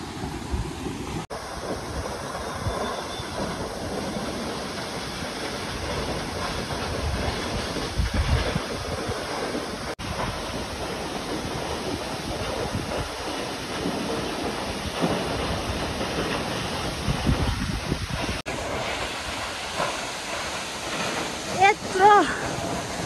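FungFuge waterfall at Mikwakhola in Taplejung, a broad steady rush of falling water that fills the whole stretch, with a voice talking over it now and then.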